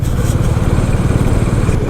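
A CB350RS motorcycle engine drones steadily while riding on a road between Varanasi and Prayagraj, a loud, close, low rumble with slight wind buffeting.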